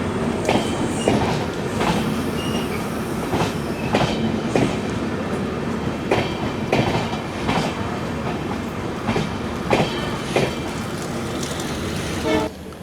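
Poorna Express passenger train running on rails near Dudhsagar Falls, with steady rumble, rhythmic wheel clicks and periodic clanks throughout, loud and close, heard from on board.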